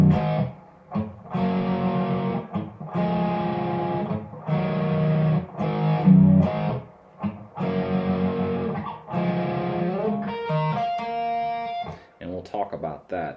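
Distorted electric guitar playing the verse riff of a song, chugging sustained chords broken by short stops, ending with a few bright fill notes and scratches, loud and close without talk.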